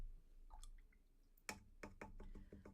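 Water is brushed onto watercolour paper with a wet brush, giving faint soft swishes and wet dabs followed by a quick run of light, rhythmic brushing strokes, close and quiet with no talking.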